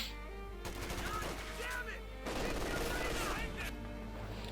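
MP42 machine gun fire in the Company of Heroes 2 game, made of bursts of rapid crackling gunshots mixed with other battle noise, with a commentator's voice running under it.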